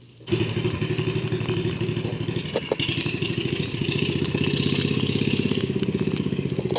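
A turbocharged EFI drift trike engine runs close and loud at full throttle, a steady buzzing drone with rapid pulsing firing and a slight rise in pitch toward the end.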